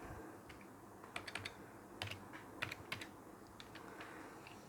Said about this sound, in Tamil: அப்படி நான் சும்மா ஜஸ்ட்டு டைப் பண்ணுறேன்